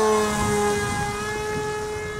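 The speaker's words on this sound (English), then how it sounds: "It's a nice flying plane other than that. Fast plane, look how fast that's going." An x41 DeltaStorm RC plane flying fast overhead, producing a steady high-pitched motor whine with strong tonal harmonics that fades slightly as it passes.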